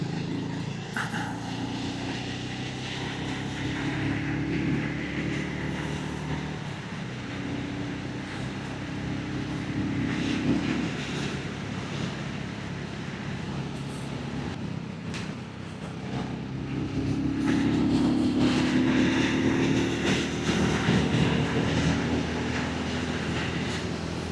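A BSA Goldstar 650 motorcycle cruises along a dual carriageway with a steady, droning engine hum and heavy wind rush, rising in intensity toward the later part of the ride.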